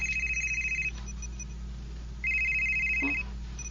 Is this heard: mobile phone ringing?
yes